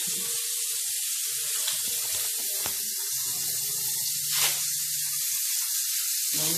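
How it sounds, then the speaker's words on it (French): Steak cooking in a pan, producing a loud, steady sizzle and spitting hiss heard close up, with a few faint tonal sounds underneath and no talking. "je finis de faire cuire mon steak"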